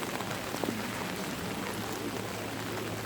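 Rain falls at the red spider lily festival at Bulgapsa temple in Yeonggwang. It makes a dense, steady patter and hiss throughout, with no talking.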